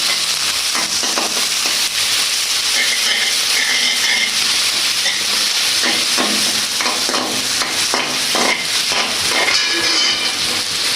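Steady sizzling and frying of onions, green chillies and ginger paste in a frying pan, with intermittent stirring scrapes, close and continuous throughout.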